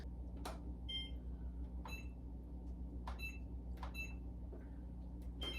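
A kitchen timer gives a series of short, clear electronic beeps about once a second as it is set, over a steady low hum from a preheated oven in a home kitchen. No one speaks.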